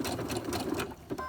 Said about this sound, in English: You can also do a little bit of a back stitch over the end of that elastic